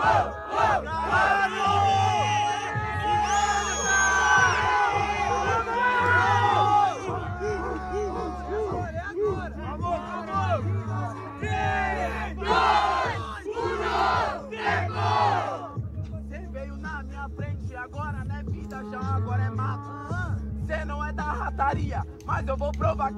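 A large crowd at a rap battle roars, cheers and chants in unison, dense and loud throughout, with shouting voices rising over a thumping beat that carries underneath.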